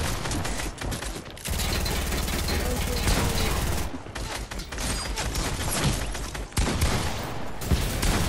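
Loud, dense video-game gunfire rattles almost without pause in rapid automatic bursts, broken by a few short gaps.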